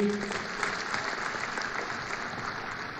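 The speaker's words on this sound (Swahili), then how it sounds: "Tuwapigie makofi jameni." An audience at a Jamhuri Day celebration claps, a dense, sustained wash of many hands from a large crowd, steady and moderately loud throughout, with brief voice traces at the start.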